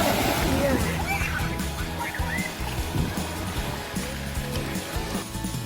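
Water sloshes and splashes around rocks at the shoreline of Scarborough Bluffs, irregular wet swishes over a steady wash, with faint bird calls in the background.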